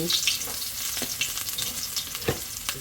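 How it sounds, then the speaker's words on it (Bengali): Chopped ginger, bay leaf, cardamom, cinnamon and chopped garlic frying in hot oil for a special khichuri: a steady close sizzle with occasional stirring scrapes and taps, no voices. "এখন আমি কিছু আদার কুচি তেজপাতা এলাচি দারচিনি রসুন কুচি"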